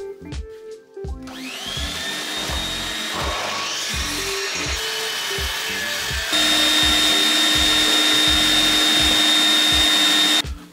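Power saw cutting into a wooden board for a bread board, a high whining motor with repeated rhythmic chopping passes, loud and close, rising to a steadier, louder whine partway through before stopping.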